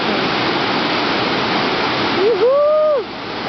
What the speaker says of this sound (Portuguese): Agora o melhor de tudo é essa queda d'água. Muita água. Muita força.